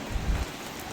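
Rain falls steadily in Visakhapatnam under dark clouds, a continuous broadband patter with a brief low rumble near the start, fairly faint and even throughout, with no voices.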